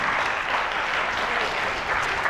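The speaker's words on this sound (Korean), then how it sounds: "박수 좀 쳐주세요" A youth camp audience at a lecture breaks into dense, sustained applause, many hands clapping at once in an even wash of sound, with no talking.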